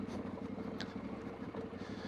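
A vehicle engine hums in a steady, low, throbbing rumble that stays constant and moderately quiet throughout.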